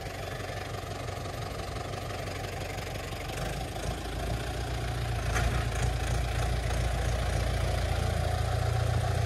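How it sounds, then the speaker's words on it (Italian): A tractor engine idling with a steady low rumble and knocking, running continuously and slightly louder toward the end. "mi dicevi che non eri più salito sul trattore, ma vedo che parti, Brauti!"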